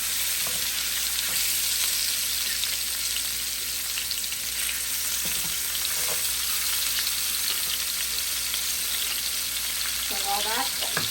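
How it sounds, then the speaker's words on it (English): Pork loin browns in a hot pan, a constant crackling sizzle with scattered pops and spits that carries on evenly throughout, close up and without talk. "you're going to put them in the pan and they're going to sear"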